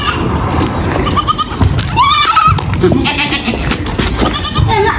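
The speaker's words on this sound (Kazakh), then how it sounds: "Қазір ешкілеріміз келеді." Village goats bleat as they arrive for milking, with one clear, loud wavering bleat near the middle and other shorter calls around it. People talk in the background throughout.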